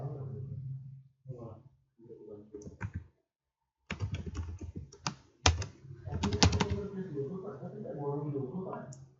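Someone types on a computer keyboard while creating a MySQL database, a quick run of clicky keystrokes mixed in with someone talking.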